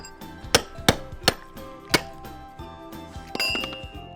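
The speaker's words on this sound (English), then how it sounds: "first we need to get rid of any loose mortar. So you'll need a chipping hammer." A chipping hammer strikes old mortar to knock loose material out of a drain or wet area, five or six sharp, separated clinking blows at close range over a low background, with no voices.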